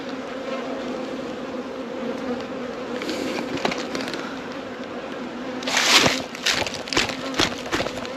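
Honeybees hum steadily inside a hive during a first hive check after a brutal cold winter, a close, continuous drone with occasional handling knocks and a brief louder swell near the end.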